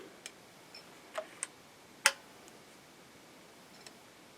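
A Kral Arms Puncher Mega air rifle's trigger is pulled against a gauge in a quiet room. A few faint ticks lead up to one sharp, crisp click, followed by a soft tick.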